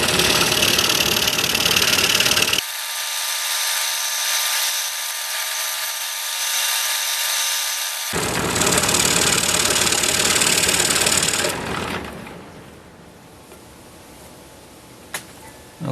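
A power saw cuts a wooden angel shape. The motor runs loud and steady through the cut, then shifts pitch mid-way and finally winds down to a quiet hum.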